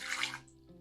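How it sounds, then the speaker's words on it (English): A short splash of water poured into a blender or bowl while making a raw vegan date sauce, a brief bright gush that fades quickly. "I'm gonna add a little bit of water"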